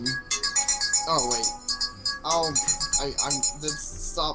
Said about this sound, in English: That's my phone going off there.